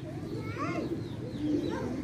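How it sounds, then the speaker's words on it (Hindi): Pigeons coo softly on a Karachi rooftop after newly kept birds are let out, a faint bubbling call repeating a few times over light background noise. "दोस्तों नए कबूतर खोल दिए हैं"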